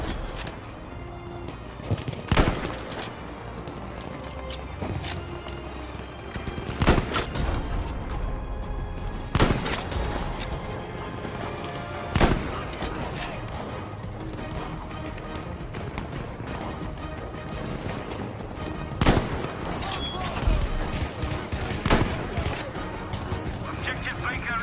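Sniper rifle shots ring out in Battlefield V, sharp loud cracks spaced several seconds apart over steady background battle noise, with a voice talking now and then.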